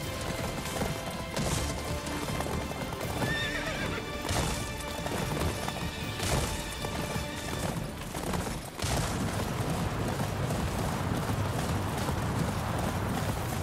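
Horses in the video game Attack on Titan 2 gallop with a dense, continuous drumming of hooves, while loud whinnies and neighs break through repeatedly over the sustained noise.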